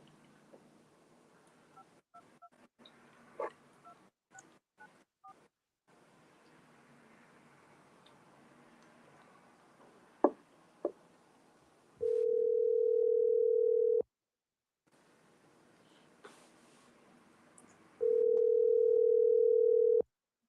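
A telephone being dialed for a call, with a quick series of keypad beeps and clicks, followed by two long steady dial-tone stretches separated by a short gap; the sounds are fairly close and clear, with no talking.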